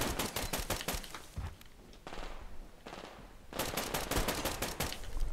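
Machine gun fire from the online shooter Survarium, loud rapid bursts of close-range shots broken by short pauses, with a sustained stretch of fast automatic fire toward the end.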